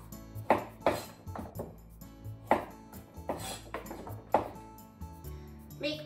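A knife cuts very thin diagonal slices on a cutting board for a spicy pork bowl, repeated crisp taps with a slight ringing tone, coming in uneven bursts, close up with no talking.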